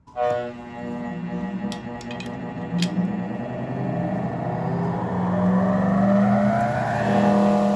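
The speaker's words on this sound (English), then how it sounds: "You want to make sure that the wheel is spinning at full speed before you feed it any material." A bench grinder wheel spins up to full speed, giving a steady motor whine whose pitch climbs and strengthens over several seconds, loud and continuous with a few brief high clicks.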